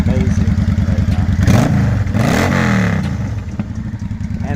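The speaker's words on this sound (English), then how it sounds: "removed the baffles on the exhaust, so it sounds amazing right now" A loud Yamaha V Star 650 motorcycle engine with exhaust baffles removed idles with a rough, throaty burble and is revved twice in quick succession before settling back to a loping idle.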